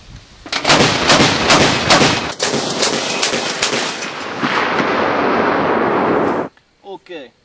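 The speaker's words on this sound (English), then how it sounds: "now we're going to see what this gun can really do. We're going fully automatic." A 40mm Bofors gun fires fully automatic: a loud, rapid string of heavy, booming shots pounds on for about six seconds, then cuts off, followed by a couple of short trailing sounds.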